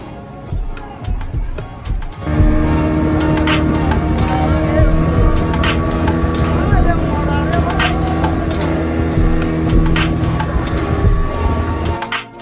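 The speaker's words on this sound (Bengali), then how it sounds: "এটাই হচ্ছে স্পিড বোট রাইড, আর এই রাইডটা অনেক মজাদার একটা রাইড" A speedboat ride at Green Valley Park in Lalpur, Natore, with a loud, steady engine drone that kicks in after a couple of seconds and carries on continuously, with rushing wind and water noise over it.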